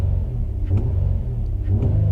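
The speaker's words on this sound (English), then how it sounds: "Very responsive engine." A car engine idling close by with a steady low rumble, marked by a couple of light revs.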